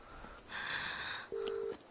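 A phone dials a call in a drama scene: a smeared electronic tone pattern, then a short clear beep and a brief high blip, all faint and quiet.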